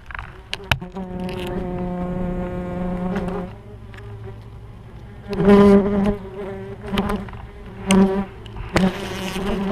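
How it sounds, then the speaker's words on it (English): Wasps swarm around their nest, with a close, dense buzzing that rises and falls in loudness as insects fly past, at times loud and droning, at times thinner, with no talking. "we're taking a look at a wasp nest."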